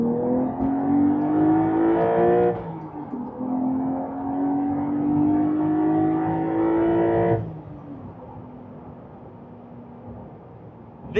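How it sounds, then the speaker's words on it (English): A turbocharged Porsche flat-six engine revs hard, climbing in pitch, dropping briefly, then winding up again to a sustained high howl before easing off, loud and close with the exhaust valves open. "This is a turbocharged flat 6 and yet it sounds superb."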